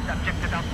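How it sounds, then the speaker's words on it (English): An attack jet roars overhead in a Battlefield 4 match on the Paracel Storm map, a steady close engine rush with a rising whine, heard briefly under someone talking. "Comes the attack jet."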